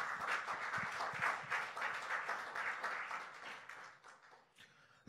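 A church congregation applauds in a sustained wash of dense clapping that rises and falls over several seconds, then thins out near the end.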